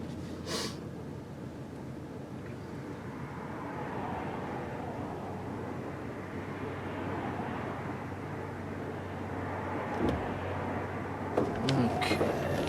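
A red 2004 Ford Explorer XLS 4WD drives up the road, a steady low rumble of engine and road noise with wind hiss from inside the cabin, a few clicks and bumps near the end.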